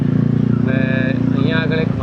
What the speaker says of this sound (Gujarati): એટલી બધી બાઇકો અને એટલી બધી ગાડીઓ છે